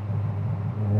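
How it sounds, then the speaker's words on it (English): A Honda S2000 engine revs steadily with a low droning note, the pitch climbing slightly near the end as it pulls harder into VTEC. "You start to hear the VTEC again. The VTEC kick in."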